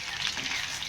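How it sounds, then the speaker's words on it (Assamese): Potatoes fry in a pan with a steady, close hiss of sizzling oil, continuous and even and with no talk over it. "অকণমান আলুখিনি ফ্ৰাই কৰি লৈছোঁ"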